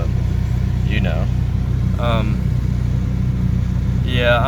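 A 2005 Dodge Neon SRT4 running slightly lean idles with a steady, low, even drone that continues without a break, while a person talks over it in short bursts.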